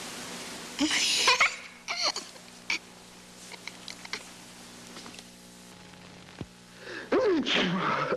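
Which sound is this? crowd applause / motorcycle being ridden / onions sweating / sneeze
sneeze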